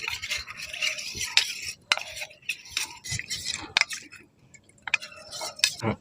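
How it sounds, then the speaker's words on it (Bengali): Cornflour and a little water whisked into a thin batter in a bowl, irregular close scraping and tapping strokes with brief pauses between bursts, no talking. "দু চামচের মতো কর্নফ্লাওয়ার নিয়েছি আমি অল্প জল দিয়ে একটা পাতলা ব্যাটার তৈরি করে নেব"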